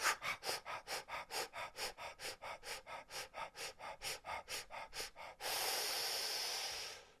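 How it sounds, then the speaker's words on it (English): Deep, forceful breath-of-fire exercise: about twenty rapid, evenly spaced breaths pumped through the nose in a steady rhythm, close and loud, ending in one long sustained inhale. "Deeper fire breath."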